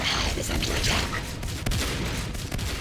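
Several shotguns blast repeatedly at an alien hive during a final push in a competitive team shooter match, dense overlapping reports forming a continuous loud barrage with a sharper crack near the middle, faint voices underneath.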